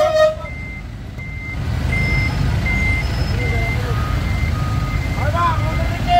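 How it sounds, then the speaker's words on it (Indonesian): A dump truck manoeuvres to haul dredged mud on an East Jakarta street, its reversing alarm repeating in steady evenly spaced beeps over a continuous low engine rumble and traffic noise. "Dump truk yang hendak mengangkut lumpur"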